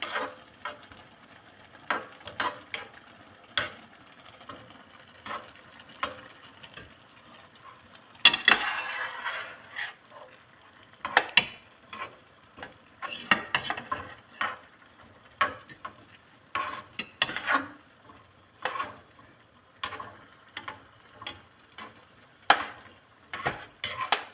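Raisins frying in a pan for carrot halwa, a faint crackling sizzle punctuated by frequent light clicks and scrapes of a stirring spoon, quiet and close with no voices.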